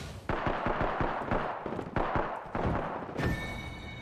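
Video game gunfire cracks out as a rapid string of sharp shots. The shots come in bursts, loud and close, with gaps between them.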